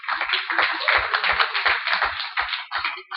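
Scattered hand clapping from a small press conference audience for the United Football League, a brief round of claps close by and moderately loud, with no talk over it.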